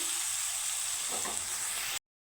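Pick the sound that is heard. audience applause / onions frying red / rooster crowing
onions frying red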